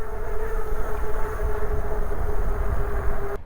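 Qnut BK20 fat tire e-bike riding at 28 mph, a loud steady motor whine with a sustained tone over rushing wind and road rumble, cutting off abruptly at the end.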